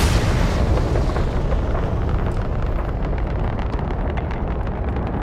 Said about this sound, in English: I have to fire a missile at them.